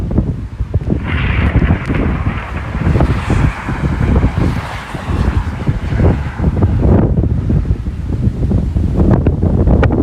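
Strong gusty wind of 40 to 50 mph during a storm buffets the microphone in heavy, uneven roaring bursts, with no speech.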